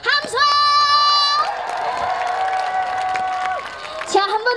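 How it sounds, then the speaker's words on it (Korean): A festival crowd at a summer beach festival at Songho Beach in Haenam claps and cheers, with high shrill whoops and shouts at first, then sustained cheering and applause that tapers off. "여러분, 제 하트 받으실 준비 되셨다면 다 같이 박수와 함성!"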